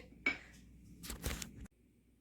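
A potato and chicken kebab mixture is mixed in a bowl, giving a sharp clink of a utensil followed by a brief scraping burst against the dish, then quiet.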